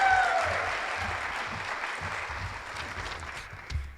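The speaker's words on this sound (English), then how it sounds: "You can also give her a big rousing round of applause." Audience applause at a high school leadership and ambassador program graduation ceremony, a dense wash of clapping that slowly fades over a few seconds with no voices on top.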